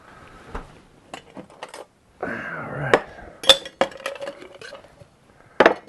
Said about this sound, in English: I'm going to get some ice going.